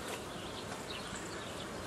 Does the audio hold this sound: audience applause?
no